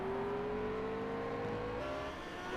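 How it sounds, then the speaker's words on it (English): Historic racing car engines power out of a hairpin at the Tourist Trophy Dundrod circuit, a near, steady drone whose pitch climbs slowly as the cars accelerate, with a second engine tone layered beneath. "So funny hearing both engines as the cars power out of the hairpin."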